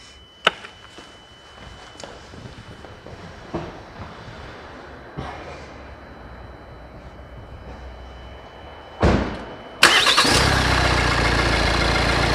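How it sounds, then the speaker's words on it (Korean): A car engine cranks and fires up after a battery jump start, with a few faint clicks beforehand, then a sudden loud start settling into a steady close idle. "바로 시동 걸겠습니다"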